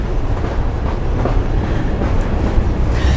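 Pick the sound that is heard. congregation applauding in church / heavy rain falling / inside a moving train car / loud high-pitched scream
inside a moving train car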